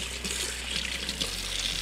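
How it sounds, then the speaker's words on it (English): Tap water runs steadily from a kitchen faucet while hands are washed during cooking prep, a continuous close hiss with no talking. "Let me wash my hands really quickly."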